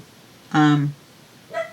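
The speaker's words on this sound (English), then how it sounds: "that's my dog Oz making his appearance" A dog gives a short, near whimper, a brief high whine followed by a fainter second yelp in an otherwise quiet room.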